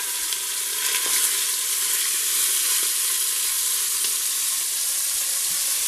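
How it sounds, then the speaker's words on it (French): Meat browning in coconut oil in a Cookeo cooker set to browning mode, a loud, even, continuous sizzle with faint crackles, close up and without voices. "Je vais rajouter ma viande pour la faire dorer."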